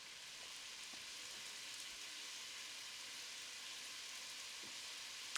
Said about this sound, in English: the bell peppers in with the onions now. What we're going to do with this is saute until the onions start to brown